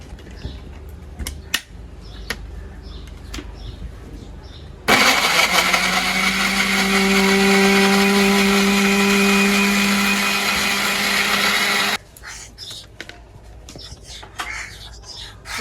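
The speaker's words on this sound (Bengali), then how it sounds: "এখন টমেটোগুলো ব্লেন্ডার জারে দিয়ে সুন্দর একটা পেস্ট বানিয়ে নেব।" An electric blender whirs through tomatoes, fried garlic cloves and dried chillies to make a paste. It starts abruptly, roars loud and steady for about seven seconds, then cuts off, with quieter kitchen clatter before and after.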